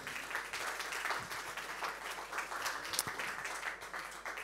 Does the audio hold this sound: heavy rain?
no